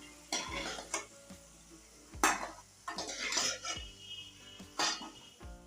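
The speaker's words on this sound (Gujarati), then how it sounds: "આપણે આ રીતના બટેકાને તળી લઈ અને પછી આપણે ડીશમાં કાઢી લઈશું" Fried potatoes are scooped out of hot oil in a pan onto a dish, with a run of metal-on-metal scrapes and clinks of the utensil against the pan and faint sizzling between them.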